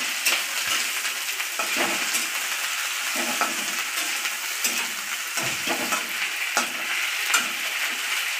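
Mint leaves frying in a masala paneer mixture give a continuous sizzle, broken by repeated scraping strokes of a spatula against the pan at an uneven rhythm, close and loud, with no voices.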